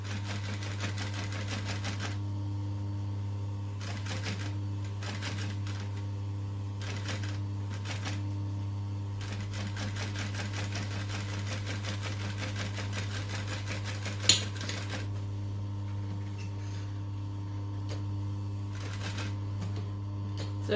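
A domestic sewing machine back stitching fabric gives rapid mechanical clatter in several start-and-stop runs over a constant low electrical hum, with one sharp click near the end.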